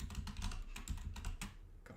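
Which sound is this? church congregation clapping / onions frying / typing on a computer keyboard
typing on a computer keyboard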